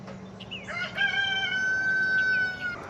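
A rooster crows once, a loud, drawn-out cock-a-doodle-doo close by over quiet background hum.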